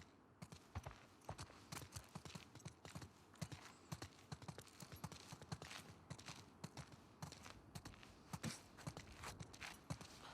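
Horses walk with steady, overlapping hoof clip-clops in the video game The Last of Us Part II, close and continuous throughout with no talk.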